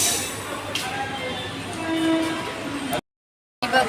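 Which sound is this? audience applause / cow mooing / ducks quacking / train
train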